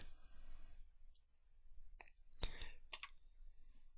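A computer mouse clicks a few times, quiet and close, in a storage cluster setup wizard. The clicks come in small bursts over a low room hum.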